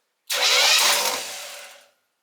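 A car engine cranking over with its spark plugs removed, a single short mechanical whir of about a second and a half that fades out, close and fairly loud.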